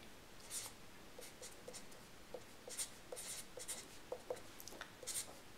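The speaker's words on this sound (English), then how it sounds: "So we write the information given." Writing down given information during a physics lesson on free-fall kinematics, a faint, close scratching of pen or marker on a surface in short irregular strokes and taps, heard alone against quiet room tone.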